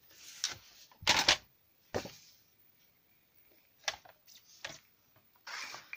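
Material for a fabric pouch being cut, heard as sporadic crisp snips and rustles close by, in short bursts separated by quiet gaps, with no speech.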